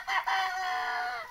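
Free-range desi chickens on a small poultry farm give a short, loud, close cluck or crow lasting about a second, heard alone.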